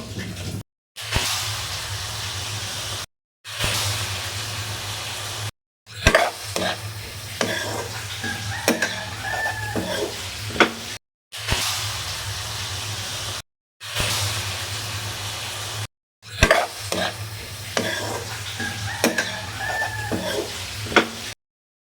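Vegetables sautéing in a pan for a vegetable khichuri, with sizzling and stirring heard in separate bursts broken by short silences. The sound is close and moderately loud.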